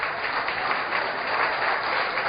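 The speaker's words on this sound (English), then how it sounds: "Find out why your neighbor is not clapping." A church congregation claps continuously, a dense, steady patter of many hands filling the room at moderate loudness with no clear speech over it.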